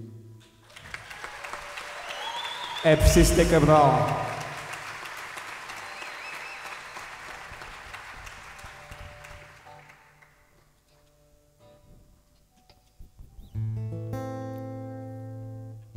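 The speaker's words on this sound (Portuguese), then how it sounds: "gostava de vos pedir uma salva de palmas para estes músicos" Audience applause for musicians in the Teatro Angrense, a crowd clapping that swells after a loud burst and fades to near silence, before instruments begin playing toward the end.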